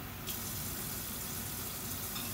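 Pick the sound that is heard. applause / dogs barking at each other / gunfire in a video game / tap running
tap running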